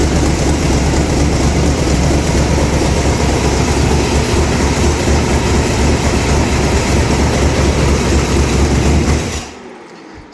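A running Oldsmobile 350 big block V8 fitted with J heads, a loud, steady, dense idle rumble that holds for about nine seconds before abruptly cutting off to quiet.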